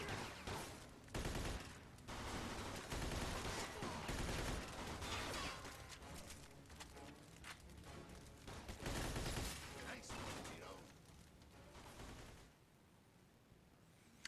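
Bursts of gunfire in a Mafia video game, dense rapid shots in rolling volleys that pause and resume before fading near the end, with a voice talking over them.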